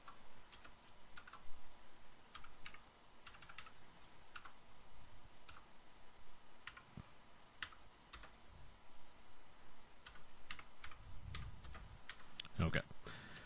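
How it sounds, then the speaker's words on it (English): Someone types one-handed on a G80-S Z80 computer keyboard: sparse, uneven key clicks close by, some in quick pairs, over a quiet background hum with a brief thump near the end. "I'm typing one-handed"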